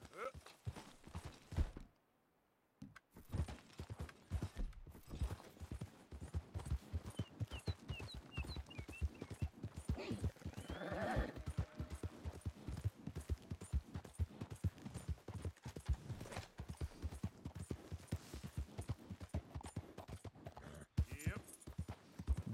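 Horse hooves clip-clop in a steady trotting rhythm while riding in Red Dead Redemption 2, close and continuous for most of the stretch, with a short pause early on and a voice talking over parts of it.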